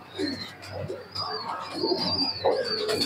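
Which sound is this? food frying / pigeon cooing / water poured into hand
pigeon cooing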